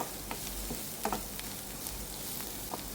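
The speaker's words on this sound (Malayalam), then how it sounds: "ഇതിന് ഒന്ന് മൂത്ത് വരട്ടെ പൊടികളെല്ലാം കൂടെ" Masala powders for chicken roasting in a pan, a low steady sizzle with occasional light spatula taps and scrapes, fairly quiet, no voices.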